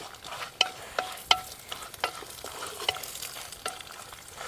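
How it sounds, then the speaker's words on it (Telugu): Cashew nuts frying in a pan and being stirred, with repeated sharp scrapes and clinks of the spoon at an uneven pace over a soft continuous sizzle, close up. "ఇప్పుడు మీకు జీడిపప్పు వేస్తున్నా."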